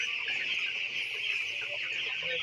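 Dense, continuous high-pitched chirping from many fifteen-day-old broiler chicks at once, steady and fairly close, with no talking.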